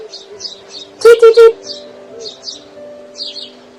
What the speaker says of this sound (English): 'Twas another swarm of birds carrying a dress.